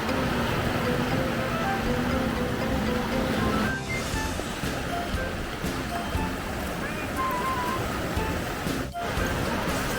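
Steady rush of ocean waves washing onto a beach at Hua Hin–Cha-am, Thailand, continuous and fairly loud, with faint voices and other sounds mixed in.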